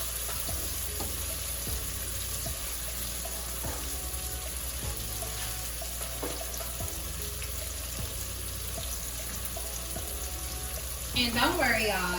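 Shredded cabbage sizzles and fries in a hot pan, a steady crackling hiss with scattered ticks and pops throughout, fairly quiet and close, ending with a brief burst of louder activity as more is added or stirred.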